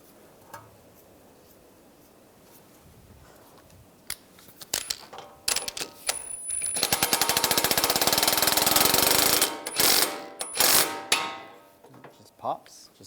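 A front end tool works on a 2013-2016 Dodge Dart's steering knuckle to pop the outer tie rod free, with metallic clanks building into a dense rattling grind before a release, followed by scattered knocks and clicks.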